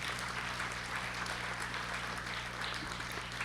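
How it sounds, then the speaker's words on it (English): Applause for a planning committee at a 2018 community iftar dinner and celebration in Brooklyn: a steady, faint wash of many hands clapping throughout, with a low hum underneath and no talk. "please give them all a round hand of applause."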